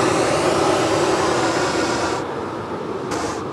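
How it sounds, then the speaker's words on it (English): Airliners at Sydney Airport roar loudly and steadily as a broad, continuous jet rumble that stays strong throughout before easing slightly near the end. "Geez, listen to those planes."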